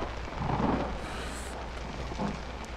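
A low thunder rumble rolls through a storm in the horror game Outlast, swelling then fading under a steady hiss of rain, with no voices.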